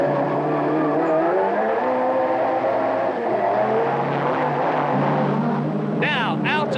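Touring race cars from the 1989 British Touring Car Championship race on the Birmingham Superprix street circuit, engines roaring steadily at close range with a brief tyre squeal near the end, under continuous commentary.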